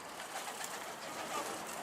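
A pigeon cooing at a rooftop coop during pigeon flying, a faint soft call under a steady bed of outdoor noise with no talk.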